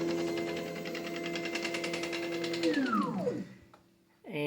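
An automated dispensing machine used for nail polish filling drives its nozzle to the start location with a steady motor whir that winds down in a falling pitch, then stops with a click.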